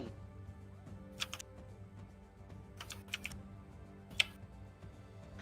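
Scattered clicks from a computer keyboard, a few sharp keystrokes spaced across several seconds over steady game music and background hum.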